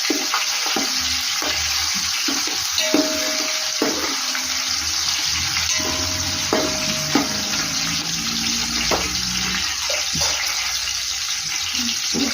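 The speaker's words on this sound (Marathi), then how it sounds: "हिरवी मिरची चांगली फ्राय होऊ द्यायची, कारण तिचा तिखटपणा सगळा तेलामध्ये उतरला पाहिजे" Green chilies frying in oil for mutton biryani give a steady close sizzle, broken by sharp crackles and spatters and a few scraping stirs, with no talking.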